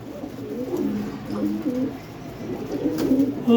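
Pigeons kept by a breeder coo softly and repeatedly in low, rolling phrases, close by and continuous over a faint background.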